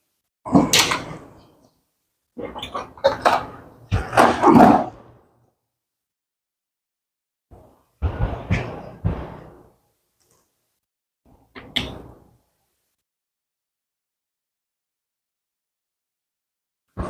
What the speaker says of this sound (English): Let's get the car door open.